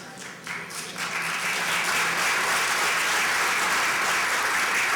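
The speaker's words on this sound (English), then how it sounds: "That is the softest, worst applause I have gotten in my entire life" An audience applauds, starting thin and scattered, then quickly swelling into steady, dense clapping that holds evenly through the rest of the moment, with no voices over it.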